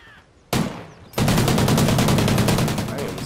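Rapid automatic gunfire in Call of Duty: Ghosts multiplayer free-for-all, a single sharp shot followed by a sustained loud burst of fast repeating rounds close up, with no talk over it.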